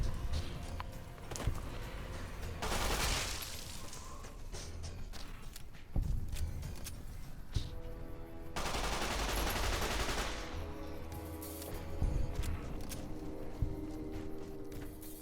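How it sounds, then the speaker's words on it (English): A 9mm submachine gun firing in Fallout New Vegas, with several bursts of rapid shots separated by quieter gaps holding scattered clicks and thuds, moderately loud against the game ambience. "9mm submachine gun is a great weapon"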